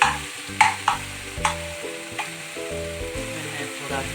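Soya chunks cook in a hot pan, a continuous close sizzle broken by a few sharp clacks and scrapes of a spoon stirring them.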